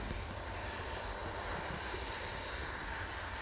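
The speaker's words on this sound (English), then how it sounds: "Next one out, Airbus A320, EasyJet, and it is off to Agadir." An EasyJet Airbus A320 departing Manchester Airport gives a steady, loud, broad jet-engine roar that holds constant throughout with no voices.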